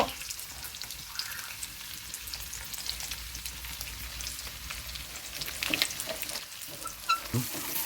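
Crushed garlic and shallots frying in hot oil give a steady, close sizzle with a few stirring clatters near the end.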